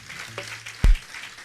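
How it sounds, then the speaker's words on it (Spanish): Applause rises from a church congregation during a Spanish-English bilingual sermon, a soft, diffuse wash of clapping cut by one loud low thump partway through. "Give an applause to Jesus."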